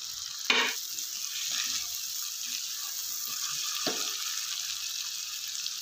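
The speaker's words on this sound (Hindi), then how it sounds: "ये देखें, मसाला अच्छे से भुन रहा है" Masala and diced potato frying in a pan for aloo palak, a steady bright sizzle with a couple of clattering stirs from a spoon, close up and without voices.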